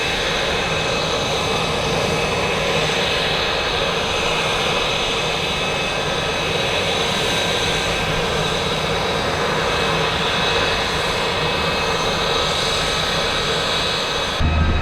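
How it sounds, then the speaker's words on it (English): An Aero L-39 jet aircraft engine produces a steady, loud, broadband roar with a constant high whine, running continuously without change for about fourteen seconds. "Wow, an L-39,"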